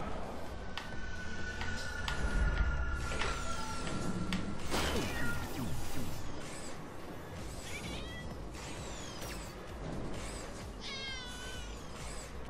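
A cartoonish cat meows repeatedly in Trials Fusion, several sharp rising and falling mewls heard among game sound effects and whooshes, near and clear, with no talk.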